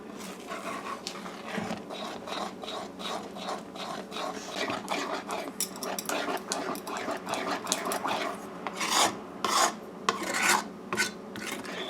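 Thick pera milk fudge is stirred by hand in a pot just taken off the stove, a continuous rasping scrape of the spoon against the pot that grows louder and more uneven toward the end.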